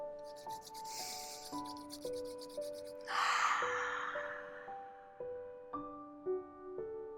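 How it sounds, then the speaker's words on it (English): Hands rub briskly together during a warming fire-breath exercise, a soft swishing friction that swells for about a second midway, set against a steady stepping melody of background music. "My hands actually feel kind of warm from rubbing them together."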